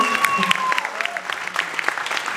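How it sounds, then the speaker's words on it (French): Audience at an urban arts event breaks into applause, a brief burst of quick, dense clapping heard fairly close, with a voice briefly calling out over it. "ça s'applaudit ça quand même"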